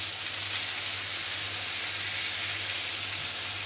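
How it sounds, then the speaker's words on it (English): Fish fries in a frying pan with a steady, close, even sizzle and crackle of hot oil, continuous and alone, with a faint low hum underneath. "now the fish has been frying for about 4 minutes on the one side."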